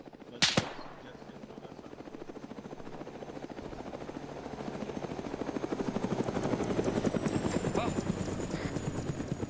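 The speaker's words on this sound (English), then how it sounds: "I'd watch out for the helicopter." Helicopter in the Arma video game, a steady rhythmic rotor chop that grows louder as it nears, opened by a sharp gunshot-like crack, with a high whine running through it.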